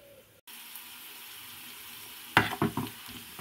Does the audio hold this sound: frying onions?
yes